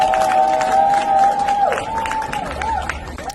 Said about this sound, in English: as he stood up to talk, this is the reaction from the crowd